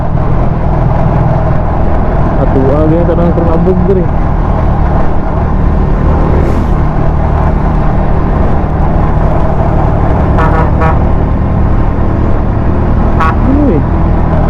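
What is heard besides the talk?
trucks driving on a dusty road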